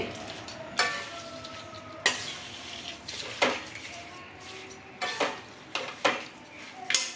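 Coriander chutney is stirred into a cooled tempering in a pan, with a spoon scraping and clinking against the metal in repeated strokes, about eight sharp knocks over a soft background crackle.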